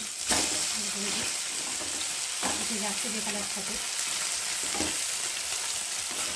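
Parshe fish frying in hot oil in a pan, a steady close sizzle with occasional spatters and stirring, while a voice talks over it in places.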